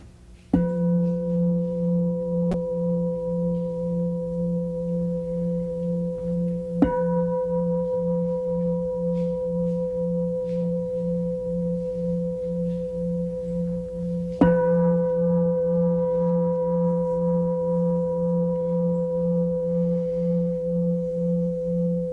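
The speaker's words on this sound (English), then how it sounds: "I will sound the gongs, drawing the meditation to a close." Meditation gongs ring out three times, each soft strike opening a long, steady humming tone that sustains and slowly fades before the next one, calm and clear with nothing else heard.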